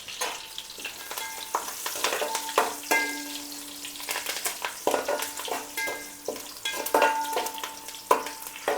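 Curry leaves and masala frying in a pan, a soft continuous sizzle with sharp crackles and intermittent utensil clinks and scrapes as the mix is stirred, fairly quiet and close.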